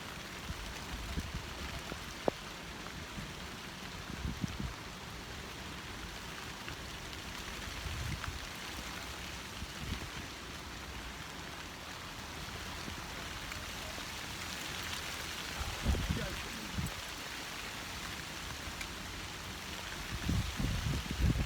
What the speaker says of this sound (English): It really is raining badly now, and I can't see a thing.